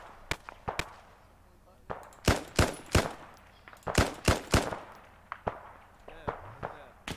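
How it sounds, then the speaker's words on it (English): Gunfire in a Vietnam War video game, sharp single shots and quick clustered bursts, some loud and close, others fainter, cracking irregularly over a quiet background. "Hey, I think they're shooting at us."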